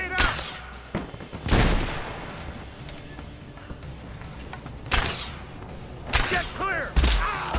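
Gunfire and a grenade blast in the video game Rise of the Tomb Raider: a broadband boom near 1.5 s, then scattered sharp shots and impacts around 5 s and 6–7 s over a busy battle bed, with faint voices mixed in.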